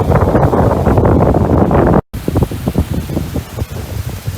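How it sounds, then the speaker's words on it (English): Strong wind at Fort Myers Beach buffeting the microphone, a loud continuous roaring rumble with a brief dropout midway, then gusty uneven bursts. "The wind is really picking up"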